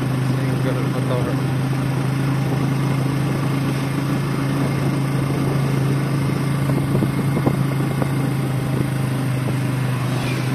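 Steady idle of a nearby Bajaj CT 125 single-cylinder motorcycle, a constant low drone with a fine pulsing texture that holds unchanged for over ten seconds, with faint talk in the background.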